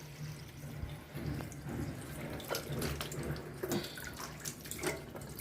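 Water runs steadily from a tap pipe into metal vessels, a continuous splashing flow with small clinks and drips close by.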